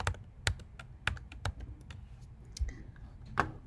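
Typing on a computer keyboard during a Photoshop session, a sparse run of crisp key clicks at an uneven pace, close and fairly quiet, with no voices over it.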